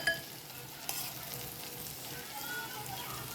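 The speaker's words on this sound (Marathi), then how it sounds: "मसाला छान परतून घेऊ आपण।" Masala spice paste for an egg curry fries in a pan, giving a steady, close sizzle with a clack from the stirring spoon near the start and soft scraping as it is turned.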